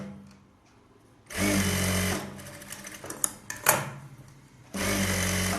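A sewing machine edge-stitches an Aari work blouse, running in a loud steady whir, pausing with a few clicks and fabric handling, then starting up again close by.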